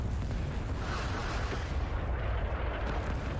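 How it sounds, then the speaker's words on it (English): Continuous low, rumbling artillery bombardment in the Vietnam War shooter Rising Storm 2: Vietnam, with heavy booming explosions blending into a dense, loud roar throughout. "Artillery strike!"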